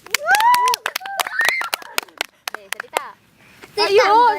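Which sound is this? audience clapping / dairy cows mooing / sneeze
audience clapping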